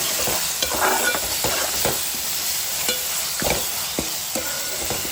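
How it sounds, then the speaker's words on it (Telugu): Tomatoes frying in oil with rock salt in a pan for a fenugreek fish curry, a steady close sizzle with sharp stirring clicks and scrapes recurring throughout, no voices. "ఇదొక 10 నిమిషాలు ఆయిల్లో వేగనిద్దామండి."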